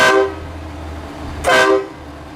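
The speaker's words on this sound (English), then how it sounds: "And what that does is it turns on the train horn." A train horn fitted to a Ford F-650 truck sounds two loud, close blasts. The first is short and the second comes after a pause, both rich and brassy over a low idling rumble.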